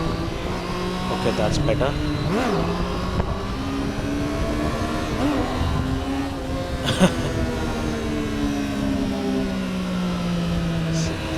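A Triumph Street Triple 765 R motorcycle engine revs and accelerates, its pitch climbing and falling through the gears, loud and close, with a rider talking over it.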